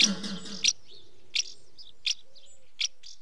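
A cartoon bird sounds four short, bright chirps at an even spacing, each followed by a soft, faint reply tone, after a brief burst of other cartoon sound at the start.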